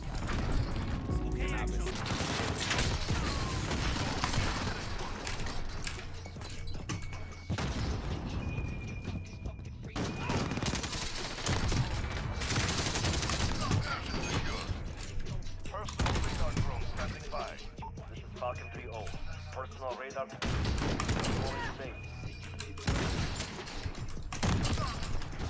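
Dense, sustained gunfire from the video game Modern Warfare, rapid bursts and booms layered continuously at close range, with a player talking over the action throughout.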